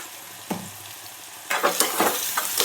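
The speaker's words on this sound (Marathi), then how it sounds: "पटकन कांदा फ्राय होतो, मऊ होतो पटकन." Chopped onion sizzles in a hot pan with salt, a soft steady frying hiss broken by a few scraping stirs from a spatula.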